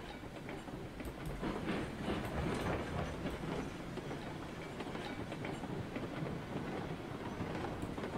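Steam locomotive rolling along rails in RailRoads Online, a steady rumble with rhythmic clickety-clack wheel beats and occasional faint squeals, loud and close throughout with no voices.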